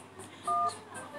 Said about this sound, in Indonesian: Coba hubungi 911.